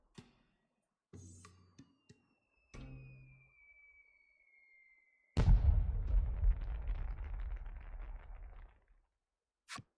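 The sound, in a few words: fireworks exploding in video game Voice of Cards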